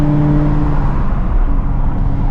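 A supercharged Shelby GT350 drives along the road, its engine a close, loud, steady drone with a low rumble and no voices.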